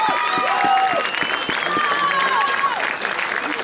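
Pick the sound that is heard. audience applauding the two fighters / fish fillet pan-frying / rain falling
audience applauding the two fighters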